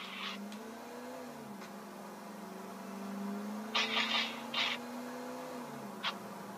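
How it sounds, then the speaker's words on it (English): A Stinger sports car in GTA IV hums steadily, its engine pitch drifting up and down as it cruises. Brief hissy bursts of road or tire noise break in near the end. "Listen to that engine."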